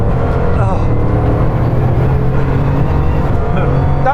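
A Bugatti Chiron Pur Sport accelerates hard on a race circuit, its engine a loud, sustained, rising drone close up and steady throughout, with faint talking underneath.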